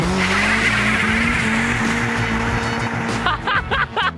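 A car on skinny tyres driven hard around a lap, engine droning steadily with rising pitch, then tyres squealing in bursts near the end, loud and close.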